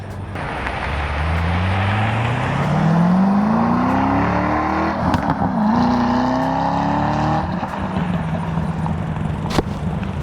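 A 2007 Corvette Z06 engine revs up through rising gears, roaring loudly and close, then settles into a steady drone; no one speaks.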